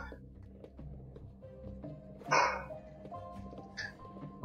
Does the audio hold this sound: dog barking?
yes